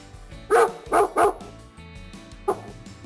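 A dog barks in a quick series of three loud, close barks followed by a pause and one more single bark, heard alone with no talking.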